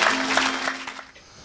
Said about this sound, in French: donne une grande acclamation à Jésus